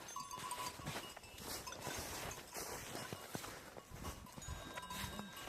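A farm herd of goats and young kids in snowy weather, heard faintly and at a distance as scattered bleats, light hoof steps and an occasional bell.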